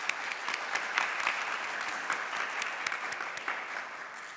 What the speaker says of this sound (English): So a round of applause for our judges.